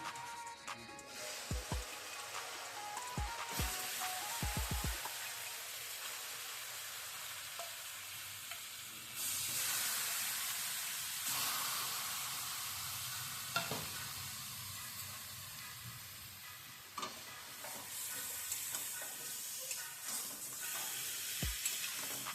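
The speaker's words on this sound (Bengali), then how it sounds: "বাটারটা গরম হয়ে গেছে, চিকেনগুলো দিয়ে দিচ্ছি।" Chicken pieces fry in hot butter for Bengali mustard chicken, with a close, steady sizzle and hiss. A few sharp knocks come early on, and the frying swells louder in bursts as the pieces are moved around.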